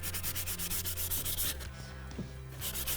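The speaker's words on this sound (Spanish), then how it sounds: "lo voy a lijar" Rhythmic back-and-forth scraping of sandpaper on wood, close and steady, with brief pauses between strokes.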